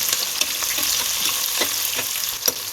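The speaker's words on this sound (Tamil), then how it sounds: "வெங்காயத்தை நல்லா வதக்கிப்போம்" Onions sautéing in plenty of oil for a wedding-style Kayalpattinam kalari curry, a close, steady hissing sizzle with frequent light stirring taps and scrapes throughout.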